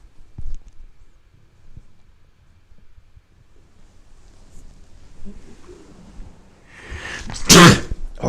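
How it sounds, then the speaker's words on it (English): A single sharp sneeze bursts out near the end, loud and close, after a stretch of faint wind and quiet background rumble. "Oh, no sneezing, you know."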